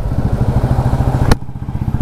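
A motorcycle engine runs close and loud with a steady, rapid throbbing pulse, broken by a brief sharp click partway through, then continues alone.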